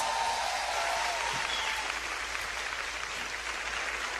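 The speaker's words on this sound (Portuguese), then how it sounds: "senhoras e senhores, uma salva de palmas" Church audience applauding, a soft, steady hiss of many hands clapping at a distance, unbroken and even from start to finish.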